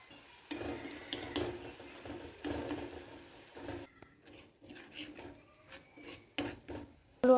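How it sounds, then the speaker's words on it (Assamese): Potato and pointed gourd pieces tipped into a wok of fried spices for an Assamese fish curry, giving close scraping, rasping stirs and clattering knocks of a utensil against the pan in uneven bursts. "আলু আৰু পটলটো দি আছোঁ।"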